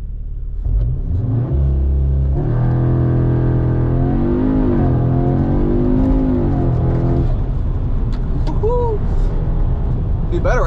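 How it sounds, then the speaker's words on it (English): An Audi S3 8Y launching with launch control into a curve on a small circuit: engine note climbing through rising revs, shifting and pulling hard, loud and close, then easing off. "We're gonna do a little launch control here into a curve though."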